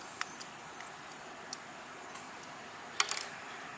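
Small metallic ticks and clicks from screws being tightened on the brushless motor mounts of a WASP 12 gimbal cage, sparse and close, with a brief cluster of sharper clicks near the end.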